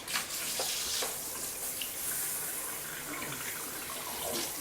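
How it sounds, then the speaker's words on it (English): Steady rushing water sprays from a hose nozzle into the jet pipes of a whirlpool tub during cleaning, a continuous broadband hiss with a few soft splashes, moderately close, no voices. "Make sure you put the nozzle straight so you can"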